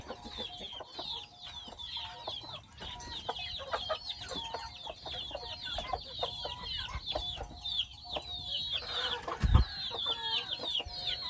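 Farmyard chickens cluck and chatter continuously at moderate distance, with overlapping calls and scratching movement throughout and a single low thump near the end.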